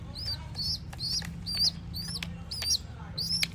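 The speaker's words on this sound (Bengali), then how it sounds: "নিজের হাতে ওদেরকে খাওয়াইয়ে দিলাম কিচকিচ করতেছে" Jalali pigeon chicks cheep after hand-feeding in a steady series of high, thin chirps, about two per second, close by over a low background hum.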